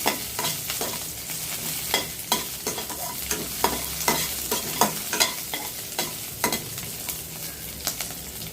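Onions and green chillies sauté in a pan, with a constant close sizzle and repeated stirring scrapes and taps at a steady rhythm.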